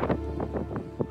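Strong wind buffets the microphone on a rooftop about 215 to 300 metres up, with rain falling, a steady close rumble broken by several gusty swells across roughly a second.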